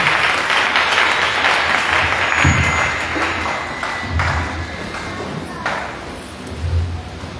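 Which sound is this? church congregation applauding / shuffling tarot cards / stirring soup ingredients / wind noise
church congregation applauding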